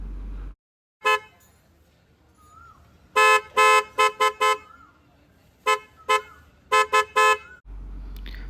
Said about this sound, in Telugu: సో ఇప్పుడు రూట్స్ హారన్ది సౌండ్ వినిపిస్తాను,